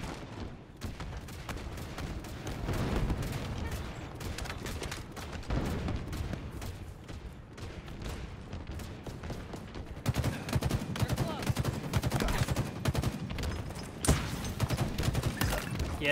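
Dense, continuous gunfire from Halo Infinite's Big Team Fiesta multiplayer mode, a steady barrage of rapid shots and thuds that grows louder and heavier in the second half, with a voice speaking faintly underneath.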